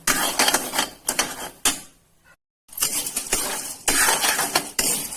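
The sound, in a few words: stirring dry-roasting glutinous rice in a pan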